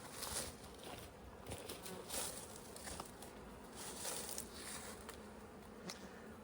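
Honeybees swarm around an open hive while a new queen is released into the colony, a soft, steady buzzing hum with scattered louder passes of individual bees, faint and continuous.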